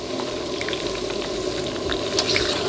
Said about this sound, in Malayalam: ഉള്ളിയും കറിവേപ്പിലയും വറ്റൽമുളകും പച്ചമുളകും ഒക്കെ നന്നായിട്ട് അതിൻ്റെ ഗാർലിക്കൊക്കെ നന്നായിട്ട് വഴന്നു വന്നിട്ടുണ്ട്